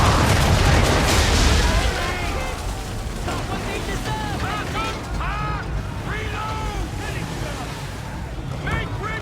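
In the Assassin's Creed 3 naval battle, swivel guns fire at an enemy ship over rushing waves and wind, a heavy blast opening the stretch, with shouted voices and screeching calls layered over the sea.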